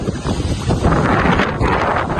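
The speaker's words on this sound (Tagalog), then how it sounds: "Malakas ang hangin." Strong wind buffeting the microphone over a flooded street beside a basketball court, a loud continuous roar of gusts with faint water sounds beneath.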